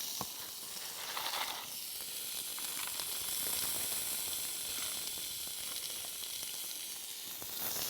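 Vegetables, with peas, corn and beans, fry in a pan over a campfire in the Victorian Alps, giving a steady, close sizzle and hiss with faint crackles throughout and no talking.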